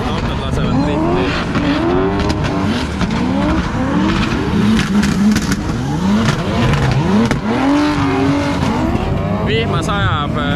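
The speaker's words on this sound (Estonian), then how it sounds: "Autod lasevad drifti." Cars drifting at a rainy drift event, tyres squealing in long rising and falling wails over loud, steady engine roar, with people talking nearby throughout.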